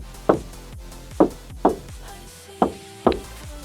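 Knuckles knock on the door panel of a 2011 Chevrolet Tahoe that has been lined with sound-deadening material, giving five close, dull, solid thuds at uneven intervals, with quiet between them.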